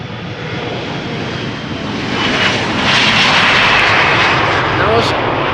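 A jet airliner departing Amsterdam Schiphol Airport roars steadily at a distance. The broad engine rumble swells a little partway through and holds loud and continuous to the end.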